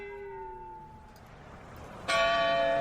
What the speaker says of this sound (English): That beautiful sound you're hearing is Christchurch's tower bell, toning out the time of day.